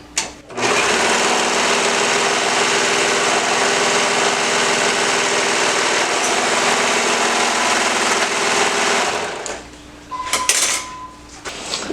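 Sewing machine stitching a romper, a steady continuous motor whir with rapid needle chatter running loud and close for about nine seconds, then stopping, followed by faint handling noises.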